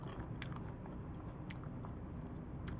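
Crunchy jujube fruit being bitten and chewed up close, a steady crisp crunching with sharp bite snaps, heard alone.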